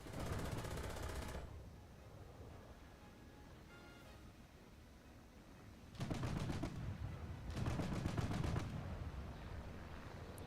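Anti-aircraft gun in a video game firing at a wyvern, two long rapid-fire bursts of loud, dense automatic shots, with a shorter burst at the start and a quieter gap between.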